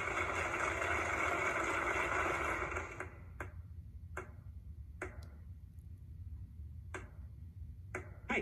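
A few sharp claps from a men's chorus in a Family Guy cutaway ring out one at a time with irregular gaps after a loud sung passage cuts off, isolated and crisp against quiet room tone.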